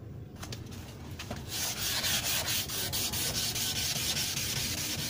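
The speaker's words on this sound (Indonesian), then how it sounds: "kita lanjutkan dengan amplas 500." Steady, continuous gritty rubbing of 500-grit sandpaper on acrylic, close up, with a rhythmic back-and-forth stroke that grows louder after a quiet start.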